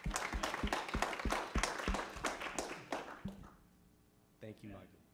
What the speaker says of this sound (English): So Mark, let's give him a big round of applause and hear a great story.